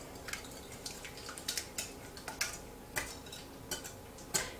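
Eggs are whisked by hand in a bowl, a run of quick light clinking taps against the bowl, fairly close and soft, uneven in rhythm, with no voices.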